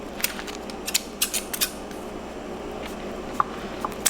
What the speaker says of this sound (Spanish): Voy a usar las tijeras porque esos sí están muy pegaditos.